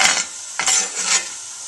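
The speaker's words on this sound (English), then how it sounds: "This is actually making a kind of a dry roux here because of the amount of oil." Dry roux for a Cajun chicken and sausage gumbo being stirred in a pot with only a little oil, a utensil scraping and rasping in short close strokes with a faint sizzle underneath.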